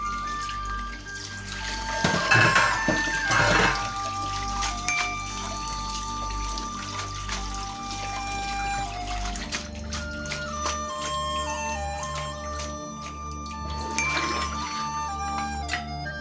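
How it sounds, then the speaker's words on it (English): Cold water pours and trickles steadily for several seconds over cooked pasta noodles, splashing into a container, with occasional clinks and drips and no talking. "Rinse the noodles with cold water."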